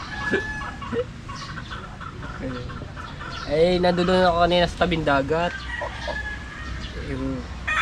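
A rooster crows loudly nearby with long wavering calls, while hens cluck intermittently; a person speaks briefly at the start.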